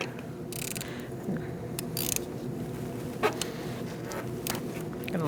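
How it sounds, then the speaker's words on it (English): A 10mm socket ratchet clicks in quick, faint bursts while loosening the negative battery terminal nut on a 2008-2014 Mercedes-Benz C300, with small metallic taps and handling noises between. "We're going to use a 10mm socket, and we're going to take off our negative battery terminal."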